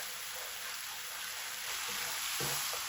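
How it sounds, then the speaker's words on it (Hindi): Semolina roasts in a hot pan with a steady dry sizzle and hiss, occasionally stirred, continuous throughout. "इसको थोड़ी देर भूनेंगे।"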